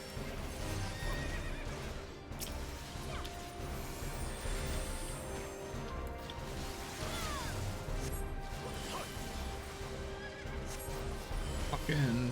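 A horse whinnies amid clattering hooves and crashing noises in a busy Final Fantasy XIV game soundscape, with people talking over it.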